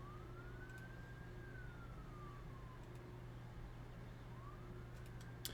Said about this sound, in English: You guys still hear the sirens going on?